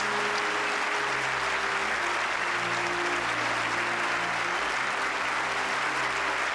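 Large crowd applauding firefighters at an event, a steady wash of clapping held at even level throughout, with a low sustained tone underneath.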